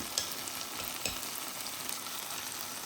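Spice paste sautéing in a pan, with chilli and turmeric pastes added for a tomato-based pabda fish curry. A continuous close sizzle runs under a couple of sharp stirring knocks, with no voices.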